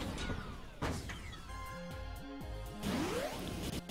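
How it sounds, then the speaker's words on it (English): Reload sound effect for Expendable Clunk in the Awesomenauts video game: a loud crash at the start, then a run of rhythmic mechanical clunks and tonal whirs with a rising sweep near the end. "That's a reload sound for Expendable Clunk."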